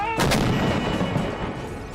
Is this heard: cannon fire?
yes